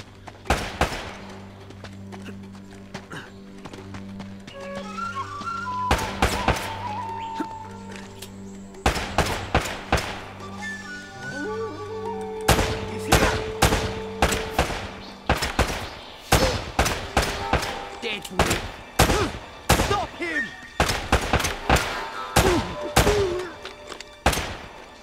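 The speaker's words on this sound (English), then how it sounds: "Maybe I'm supposed to shoot the lock of this." Gunfire rattles through a firefight in Uncharted: Drake's Fortune, sharp repeated shots and bursts scattered across the scene, loud and close, over a low game soundtrack with occasional thuds.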